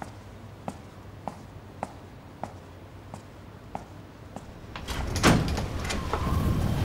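A door swings open at night, a louder scrape and bump near the end after a run of evenly spaced faint ticks, heard close in a quiet room.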